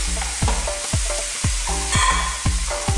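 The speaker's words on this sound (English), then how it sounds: "I'm going straight in with our frozen peas." Frozen peas go into a hot pan over medium-high heat, a steady sizzle and frying hiss under repeated rhythmic scrapes of a spoon stirring, close and loud with no talk.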